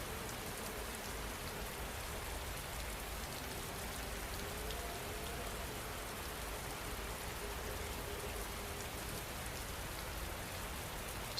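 Steady, dense rain falls continuously on a surface, a broad even hiss with fine patter and no other sounds, close and constant throughout.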